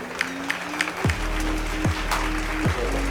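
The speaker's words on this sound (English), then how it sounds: "Let's all give a round of applause for EZ Wireless." An audience applauds in a small room at a podcast taping, a thin, sparse patter of clapping over a steady low hum, with a few sharper individual claps near the start.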